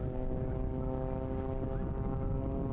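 A display aircraft performs at Eastbourne International Airshow, its engine giving a steady, continuous droning hum with strong tonal harmonics, moderately loud and unbroken throughout.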